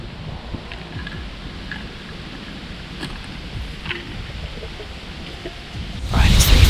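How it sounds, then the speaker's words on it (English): Strong wind gusting outdoors in autumn woods, a broad rushing noise with buffeting on the microphone that surges louder at the end, no one speaking. "As you can probably hear, it's pretty windy right now."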